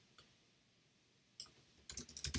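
Computer keyboard keystrokes sound close and faint: two isolated clicks, then a quick run of several sharper taps at the end.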